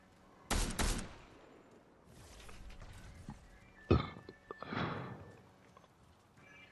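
Fortnite gunfire comes as a pair of sharp, loud shots early on, then a heavy crack near the middle and another burst after it, separated by quieter shuffling and movement sounds.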